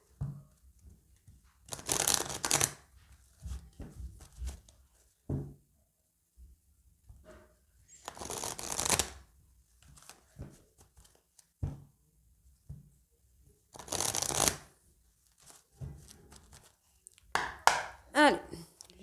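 Oracle deck cards from a Secrets d'Émeraude set are shuffled in four brisk, close riffling bursts spaced several seconds apart, with soft handling noises and low murmuring in between.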